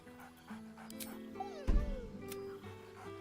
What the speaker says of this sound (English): Scratch barks. He seems excited in a way you recognize.